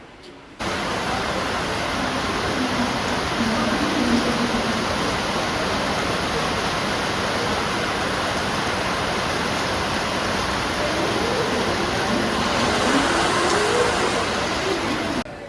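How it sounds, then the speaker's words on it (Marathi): Heavy rain pours steadily in the Mumbai area, a dense continuous hiss that runs loud and even for the whole stretch, with faint background noise under it. "पाऊस भरपूर चालला आहे"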